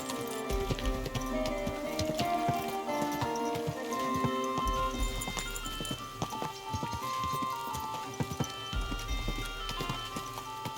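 Horse hooves clip-clop steadily in Kingdom Come Deliverance 2, a brisk rhythmic trot carried over game music and ambience, with a brief snort or whinny.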